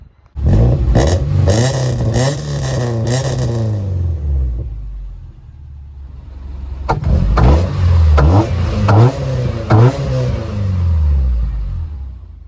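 Subaru Forester engine revving, two bursts of repeated throttle blips separated by a brief settle to idle, loud and close with a deep rumbling exhaust and no talk.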